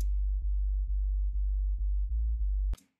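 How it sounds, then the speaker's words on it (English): Deep sub-heavy synth bass line for a New York flex tune, a steady low sine-like tone with brief pitch blips in a pulsing pattern, loud and alone, cut off near the end by a short bright click. "Our original bass is this."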